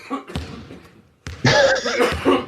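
A short cough bursts out, followed after a pause by a louder playback of coughing and voices, close and abrupt.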